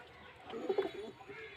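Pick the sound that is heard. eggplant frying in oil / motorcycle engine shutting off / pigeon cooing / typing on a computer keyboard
pigeon cooing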